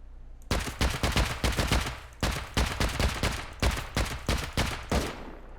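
Rapid shots from a silenced gun loaded with explosive ammo in Rust, fired in close, evenly spaced bursts of sharp cracks with a brief pause midway, alone without voices.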